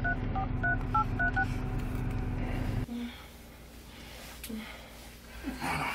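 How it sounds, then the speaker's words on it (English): A telephone keypad being dialed, a quick series of distinct touch-tone beeps lasting a few seconds, followed by quieter room noise and faint breathing. "Let me call this nigga Mike, man."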